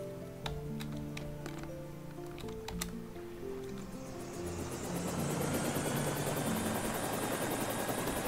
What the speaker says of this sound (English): Let's drop the helicopter out here real quick